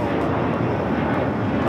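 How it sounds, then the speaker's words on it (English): Allegiant Air Airbus A320 taking off at LAX: a brief, steady, loud engine roar with no break. "Allegiant Air 421 taking off to Cincinnati on the A320"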